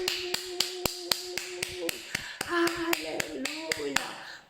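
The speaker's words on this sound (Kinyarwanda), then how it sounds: "Komera Yesu amashyi." Worship congregation clapping in unison to a song praising Jesus, sharp regular claps about every half second over singing, steady and moderately near throughout.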